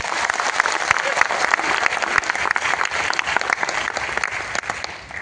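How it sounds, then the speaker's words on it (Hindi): Loud, sustained applause from a sizable seminar audience in Patna, dense clapping continuing steadily throughout and tapering slightly at the end. "एक बार जोरदार ताली मारिए"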